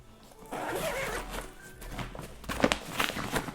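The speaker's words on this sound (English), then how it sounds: "with a simple unzipping, you get an additional 10 litres of volume capacity" An expansion zipper on a Peak Design Travel Backpack is pulled open, giving a close, scratchy rasp that runs in uneven strokes with a few louder tugs near the end.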